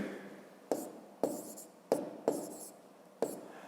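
Chalk or pen strikes a board in five sharp, separate bursts during a fifth-grade maths lesson, each stroke starting crisply and trailing off, recorded close with no talking.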